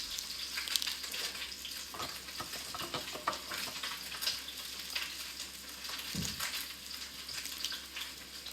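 Salmon frying in a pan, a continuous close crackling sizzle with small pops and a brief low knock partway through, no voices.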